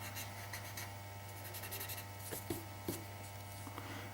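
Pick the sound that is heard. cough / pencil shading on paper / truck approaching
pencil shading on paper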